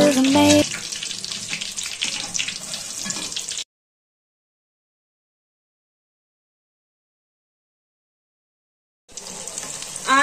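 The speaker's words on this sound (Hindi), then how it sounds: "ऑयल हो गया गर्म, और अब मैं डालूंगी समोसा इसके अंदर" Chicken samosas drop into hot frying oil and sizzle loudly up close, a steady crackling hiss that cuts out abruptly in the middle and returns at the end.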